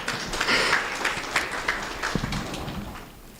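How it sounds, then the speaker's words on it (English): Scattered applause at a conference opening ceremony, light and patchy clapping that fades toward the end, fairly faint. "just clap for me as I go to my seat also"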